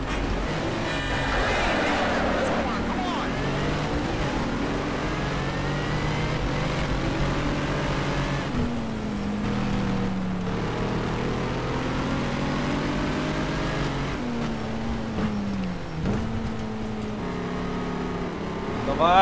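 A Shelby Terlingua Ford Mustang muscle car in the Need for Speed racing game, its engine revving and shifting pitch continuously for the whole stretch, close and fairly loud with a slightly harsh tone.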